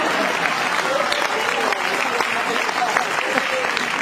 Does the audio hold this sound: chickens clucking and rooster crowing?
no